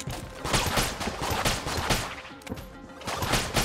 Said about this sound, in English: Fill the room with bullets